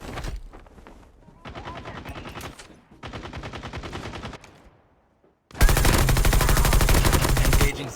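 Type 19 rifle in a video game firing long automatic bursts, loud and close, with brief pauses between strings of shots and a dense final burst.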